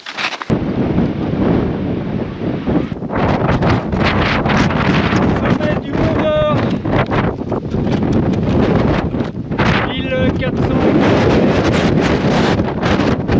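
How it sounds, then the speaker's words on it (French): Strong wind in the Jura mountains during a winter snowshoe trek buffets the microphone in loud, continuous roaring gusts, with brief faint sounds in the background. "Beaucoup de vent"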